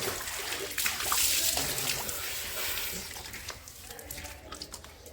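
Water splashes and pours during an outdoor bath in a village, a close, uneven wash of splatters and trickles that gradually eases off.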